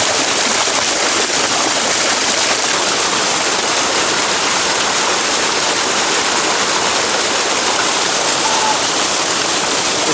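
Steady, loud rushing water fills the whole stretch, a broad constant roar of an ice-cold river near Mt. Wendelstein flowing close by with no talking.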